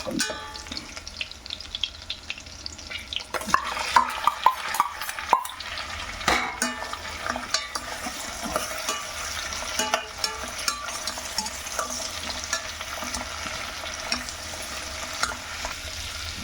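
Onions, curry leaves and green chillies frying in a pan for a Konaseema-style gongura dried prawn curry, a steady close sizzle broken by frequent clattering spoon stirs and scrapes against the pan.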